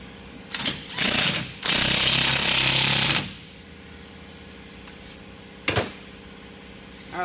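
A nut being run down onto the center pin of a leaf spring pack during an add-a-leaf installation, with two loud, close, rattling power-tool bursts followed by a sharp metallic clank.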